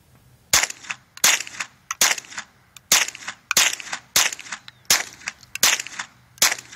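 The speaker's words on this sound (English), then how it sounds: "shooting my new Ak-22" Sharp gunshots from an Ak-22, a rimfire rifle styled after the AK with a standard 10-round magazine, fired in a steady series of about eight close, loud reports spaced under a second apart with short ringing tails.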